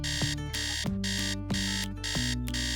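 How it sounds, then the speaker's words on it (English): A wireless bedwetting alarm for children sounds a loud, insistent electronic melody of repeating tones in steady rhythm, close and unbroken for the whole stretch with no talk. "The alarm is out of your child's reach, so your child needs to get out of bed to turn it off."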